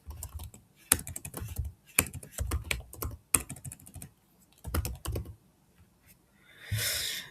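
Close, fairly quiet typing on a computer keyboard, coming in several short clattering bursts with pauses between them, ending in a brief rougher rustle.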